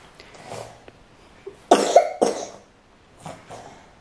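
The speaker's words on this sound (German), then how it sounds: "Solange es nur ein Husten ist" A person coughs in several harsh bursts, close and loud, with a couple of quieter coughs spaced around them in an otherwise quiet room.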